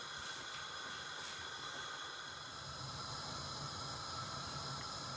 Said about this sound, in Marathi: आमटीला उकळी आलेली आहे